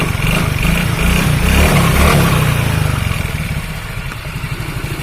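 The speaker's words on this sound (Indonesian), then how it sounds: "Kita tes pakai engkol atau kita pakai selainya dulu ya." Yamaha Mio scooter engine running after a repair to a stripped crankshaft thread, a steady close clattering idle with slight revving, no talking over it.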